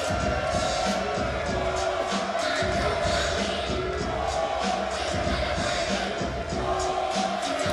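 A crowd at an MMA fight cage cheers and roars steadily as a welterweight fighter is introduced, a dense continuous wall of noise with amplified music-like tones underneath.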